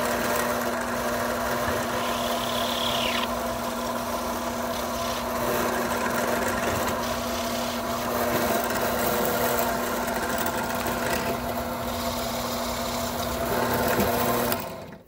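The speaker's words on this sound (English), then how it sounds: "when we're done drilling the fingerings out, I'll drill the sound hole out" A steady drill hums continuously with a constant tonal drone and grinding texture, close and loud, drilling finger holes in a pipe for a homemade flute, running without pause for the whole stretch.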